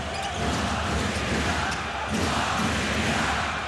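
Dense, roaring crowd noise fills a basketball arena as fans cheer for Latvia against Lithuania at a FIBA EuroBasket 2025 game, a sustained loud wash of cheering with no breaks.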